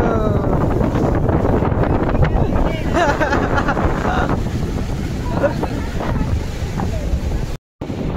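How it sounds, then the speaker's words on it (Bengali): Sea waves and strong wind at Puri beach, a loud continuous roar of surf buffeting the microphone with wind noise, steady throughout with a brief dropout near the end. "আর সমুদ্রের গর্জনা"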